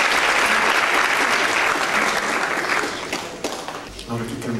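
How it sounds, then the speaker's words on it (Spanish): Theatre audience at a municipal theatre concert applauding loudly, dense sustained clapping that fades toward the end as a voice begins speaking over it. "Un aplauso para él, por favor, fuerte."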